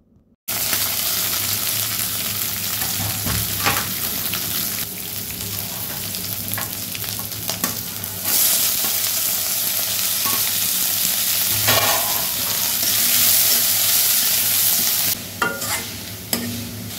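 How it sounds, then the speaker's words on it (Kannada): Crushed garlic, green chillies and onion fry in a pan with a loud, continuous sizzle. Repeated scraping stirs of a spoon run through it close up, and no voices are heard. "ಹಸಿಮೆಣ್ಸಿನ್ಕಾಯಿ, ಈರುಳ್ಳಿ ಕೂಡ ಹಾಕ್ಕೊಂಡು ಫ್ರೈ ಮಾಡ್ಕೋಬೇಕು"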